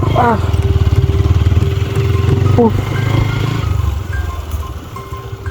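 A motorcycle rides across a remote sandy river island at Char Hapaina, its engine a close, loud, steady rumble that eases slightly toward the end, with a brief voice near the start.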